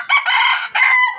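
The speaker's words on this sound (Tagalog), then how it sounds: "Maganda yung tilaok niyan." A rooster crows loudly and close by, one crow split by a brief break near its end, with no voices.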